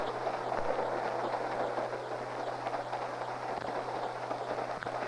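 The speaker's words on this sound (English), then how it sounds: "The train has been climbing steadily, and we are now getting into some real snow." A ski train climbs steadily toward Winter Park into snowy country, its steady rolling rumble and hum continuous and fairly loud throughout, with faint rhythmic rail clicks underneath.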